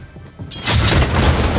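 An Anvil Rocket Launcher fires in the video game Fortnite, a single heavy boom that bursts in after a brief mechanical click and rolls on with a rumbling blast tail, loud and close.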